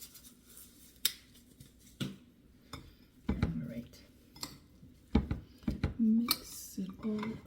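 Spicy Korean bibim noodles are mixed in a bowl, producing sharp clinks and scrapes of utensils against the dish in irregular bursts, close up, with a voice speaking between the clatters.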